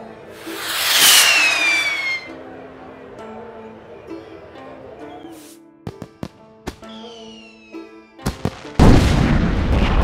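A rocket whistles as it flies, then explodes with a crackle of sharp fireworks bangs, scattered pops and a final loud burst of noise, heard close and loud against a faint musical background.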